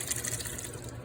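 Cooking water from pressure-cooked chickpeas is poured into a container, producing a steady, close splashing gush of liquid that continues briefly without any speech.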